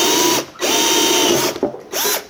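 A jigsaw cuts a large round hole in solid wood, its motor whining loudly in three bursts separated by brief stops.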